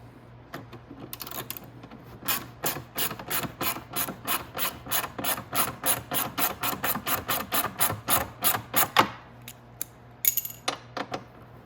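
A ratchet wrench undoes bolts on a Venom eVader electric motorcycle, a close, loud run of rapid even clicks lasting several seconds, then a short pause and a few more clicks.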